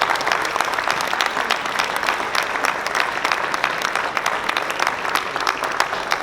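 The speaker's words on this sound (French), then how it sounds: "on va prendre le temps d'applaudir très fortement tous les gens qui se sont investis dans cette belle réalisation" A crowd at the Dijon fair in Côte d'Or applauds loudly and steadily for about six seconds, a dense, even wash of many hands clapping with no voices rising above it.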